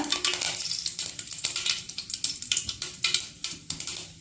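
Mustard seeds in hot oil for tempering give a bright close crackle of rapid little pops and hiss, with a few utensil scrapes, steady and moderately loud with no voices.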